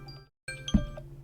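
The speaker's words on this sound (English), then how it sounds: "That's the sound of a timer expiring." Expiry cue from a video game timer in a space bus-driving game jam project: after a brief silence, a short chiming burst with a low thump sounds up close and alone.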